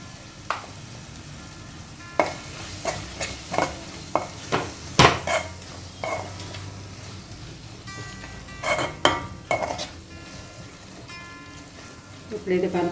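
A spoon scrapes and clinks in a pan while a spice powder of coriander, cumin and fenugreek is mixed into an egg and onion curry, giving irregular knocks and scrapes over a soft sizzle, with a voice speaking at times.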